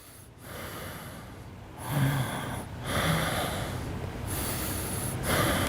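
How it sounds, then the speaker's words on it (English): A person draws three deep, audible breaths close up during a medical examination, each a rushing inhale-exhale separated by short pauses. "Now breathing in 3 times for me."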